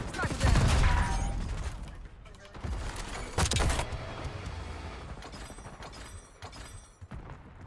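Video-game gunfire from an enemy marksman: a loud opening burst of shots with a heavy boom, another sharp blast a few seconds later, then scattered fainter cracks and rumble under occasional voices.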